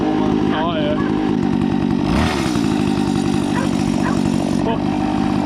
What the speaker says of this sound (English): Warm up. It's a two-stroke, just flog it senseless.